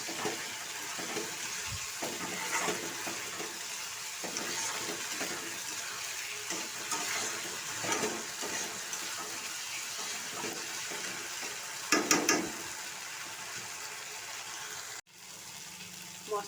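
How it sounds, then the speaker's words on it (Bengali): Water splashing and running into a pan while cooking a Bengali fish curry with spices, a steady close gush lasting most of the clip before stopping near the end. "এবার আমি জল দিয়ে দিচ্ছি।"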